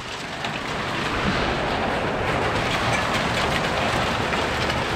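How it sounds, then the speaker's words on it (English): Hail pelting down during a Colorado storm, a dense, steady roar of impacts like heavy rain drumming on surfaces, loud and continuous throughout with no talking. "Oh shoot, it actually is hail."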